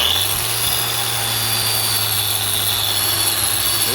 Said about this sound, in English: let's get this wire wheeled some